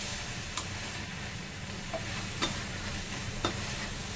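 Spinach curry with potato, pumpkin and carrot being stirred in a pan, giving a steady low sizzle with a few soft scrapes of the spoon at intervals, with no one talking.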